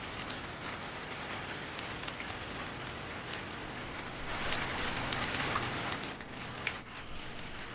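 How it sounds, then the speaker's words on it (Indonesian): Heavy rain pours steadily outdoors near a palace, a dense, fairly faint hiss of patter that swells slightly midway, with no voices. "Deras sekali hujannya."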